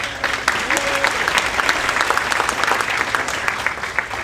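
Audience at a school district State of the District event applauds, dense sustained clapping from a large room crowd that keeps going evenly throughout.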